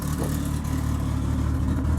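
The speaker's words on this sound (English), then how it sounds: "Car's running great. Sounds great." A rebuilt Honda Civic engine running steadily close by, a continuous low mechanical hum with a slight clatter and no speech.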